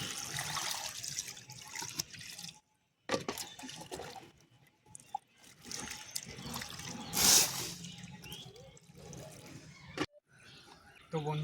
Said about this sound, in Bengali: আমি প্রথম জলটা অতিরিক্ত পরিমাণে দিলাম